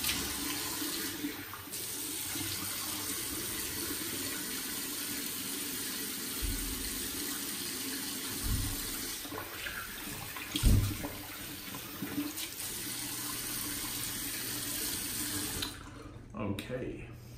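Steady tap water runs into a bathroom sink while a face is washed after shaving, a continuous close splashing rush with occasional heavier splashes, stopping near the end.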